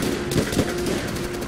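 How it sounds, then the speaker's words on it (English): Enemy machine-gun fire from Call of Duty World at War, a loud continuous rattle of rapid bursts lasting the whole moment with no voice over it. "There's one guy up front behind the sandbags that he's shooting at me."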